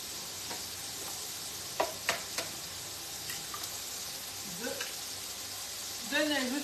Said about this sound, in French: je surveille mes courgettes qui ne brûlent pas